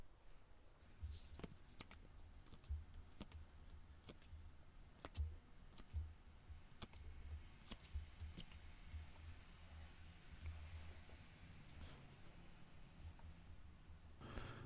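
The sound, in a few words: tarot cards being shuffled and drawn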